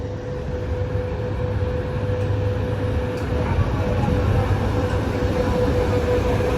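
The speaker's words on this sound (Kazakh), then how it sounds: "Қазір енді екінші поезд келеді. Тальго ғой." A Talgo passenger train arriving at a station, a loud continuous low rumble and rolling rail noise with a steady tone running through it, building slightly and close by throughout.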